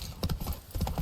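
A quick burst of galloping hooves from Roach the horse in The Witcher 3, a close, rapid clip-clop lasting about a second.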